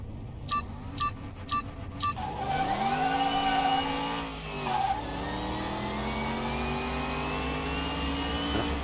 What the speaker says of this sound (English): So that one seems to be turbocharged on the Audi.